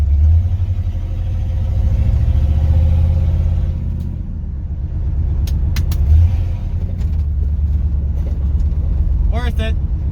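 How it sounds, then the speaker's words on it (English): A car fitted with Evil Energy remote-controlled electric exhaust cutouts, cutouts open, pulls away from a stop sign with a loud, close rumbling exhaust that swells as it accelerates, with a brief higher whine near the end. "leaving a stop sign with exhaust cutouts."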